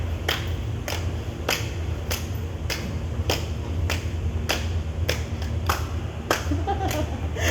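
Both hands clap in a steady repeating pattern during a music masterclass, sharp evenly spaced claps over a continuous low hum, moderately close.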